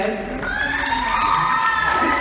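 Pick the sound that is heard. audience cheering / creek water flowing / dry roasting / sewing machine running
audience cheering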